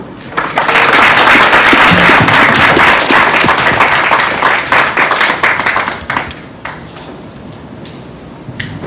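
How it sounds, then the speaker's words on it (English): Loud, close applause breaks out from the audience at a FinTech cybersecurity and fraud summit after a speech ends, dense clapping peaking early, then thinning into scattered individual claps that fade out. "Please, another round of applause for the"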